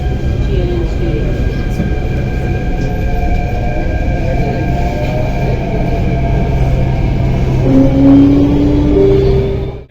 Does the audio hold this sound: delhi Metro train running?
yes